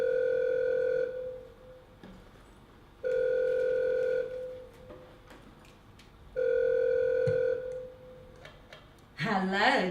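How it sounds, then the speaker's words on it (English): A telephone ringback tone sounds through the earpiece, three evenly spaced rings with long pauses between them, before a voice answers at the end. "I take a bold step, picturing a brassy madam at the other end of the phone as I tentatively tap in the number from the website."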